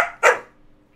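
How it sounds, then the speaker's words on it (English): A single sharp dog bark, close and loud, following a brief burst of vocal noise and fading into a quiet room. "If I don't look at him, he doesn't bark at me."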